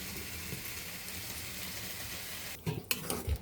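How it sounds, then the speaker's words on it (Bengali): Egg and potato curry with new potatoes simmers in a covered pan, giving a steady, even bubbling hiss, followed by a few sharp knocks and clatters near the end. No voices. "বলক চলে আসছে, আমরা 5 মিনিটের মতো বলকিয়ে নেব"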